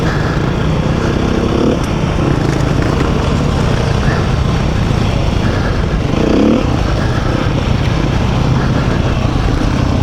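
A 2021 Beta 390 RR Race trail motorcycle runs steadily throughout, a continuous near engine drone with mild throttle swells around the two-second and six-second marks, no voices.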